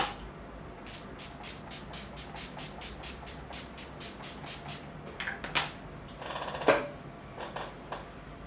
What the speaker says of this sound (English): So I'm just going to spray it on my face.